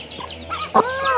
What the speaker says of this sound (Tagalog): Handa mo ng ating manok.